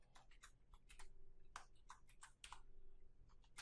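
Quiet, irregular keystroke clicks from a computer keyboard as a password is typed to mount a VeraCrypt encrypted volume, with clusters of taps and short pauses and no talking.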